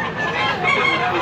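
A rooster at a poultry market in Tabunok, Cebu crows in one loud, close, sustained call.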